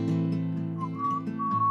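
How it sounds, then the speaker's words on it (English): A person whistles a simple tune, clear sustained notes that rise and fall over a low steady musical background. "he started whistling"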